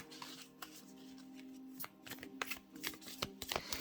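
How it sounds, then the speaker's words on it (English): Heart-shaped playing cards are shuffled and riffled in quick bursts, with sharp snapping flurries growing busier toward the end; no one speaks. "one of the most difficult decks to shuffle with these heart-shaped cards"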